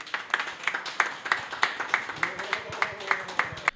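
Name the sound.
audience applause at forum closing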